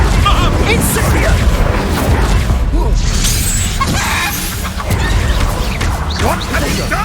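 An Incendio fire spell is cast in the wizarding video game Hogwarts Legacy, with loud crashing, whooshing bursts and impacts in busy combat, repeated several times with no speech audible.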